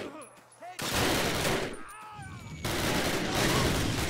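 Rapid gunfire from soldiers in a Call of Duty video game crackles in dense sustained bursts, loud and close, with a brief pause between two long volleys.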